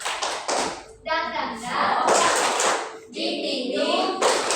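A classroom of students does a rhythmic spirit clap, sharp bursts of hand claps alternating with a teacher and children chanting the pattern aloud, close and lively.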